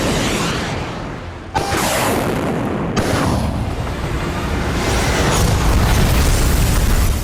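A Patriot Advanced Capability missile launch roars continuously as a loud, broad rumble, with two sharp bursts standing out in the sustained blast.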